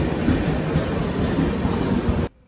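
A train on the Aluva to Bangalore route rumbling steadily, a loud continuous roar of wheels on track that cuts off abruptly near the end.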